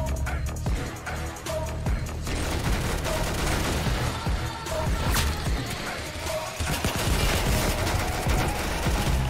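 Roblox Arsenal combat rings with steady, loud gunfire, as rifle shots and rapid bursts pile up in a dense, continuous barrage along with crashing impacts across the whole stretch.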